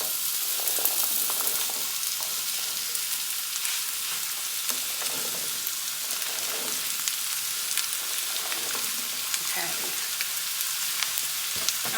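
Zucchini and squash with red pepper flakes sizzle steadily in a pan, a dense, even hiss that runs unbroken throughout.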